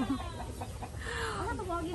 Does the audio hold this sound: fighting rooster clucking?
yes